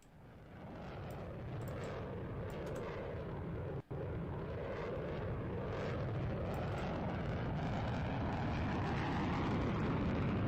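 A Eurofighter Typhoon jet making a flyby in Roblox, a loud, continuous broadband engine roar that builds steadily with a brief dropout partway through, with no talking.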